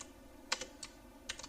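Computer keyboard being typed on while entering code in MATLAB: a few sparse, sharp key clicks in small clusters, close and fairly quiet, with no talk.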